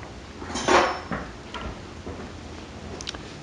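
A spoon stirs sauce for chips in a dish, sending out a few close scraping clinks against the bowl, loudest near the start, followed by lighter taps.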